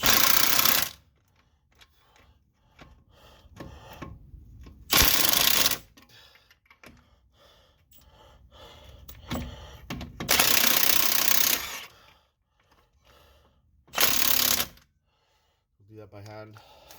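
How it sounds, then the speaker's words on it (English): An impact wrench zips 21 mm nuts onto a Pontiac Montana van during a front bearing replacement, firing in several short, loud bursts separated by quieter clinks and shop handling noise. "We're just gonna zip these on with their impact."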